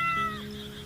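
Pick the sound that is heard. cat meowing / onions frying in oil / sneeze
cat meowing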